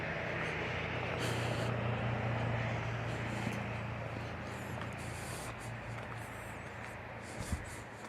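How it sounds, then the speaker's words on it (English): Constant broadband rush of highway traffic beside a flat hiking trail, passing vehicles blending into a steady roar with a few faint higher squeals and knocks, heard from close by and outdoors. "We'll hear traffic because the highway's literally right there."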